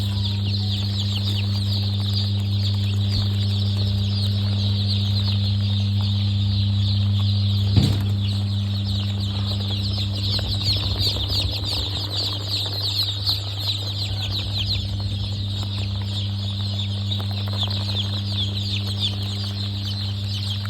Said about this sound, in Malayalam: ഇതെല്ലാം നാടൻ കോഴിക്കുഞ്ഞുങ്ങളാണ്.